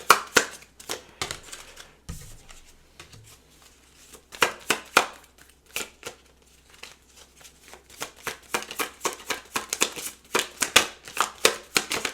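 Tarot cards are shuffled close up in a steady run of crisp riffling flicks and slaps, pausing briefly before the rapid flicking picks up again toward the end.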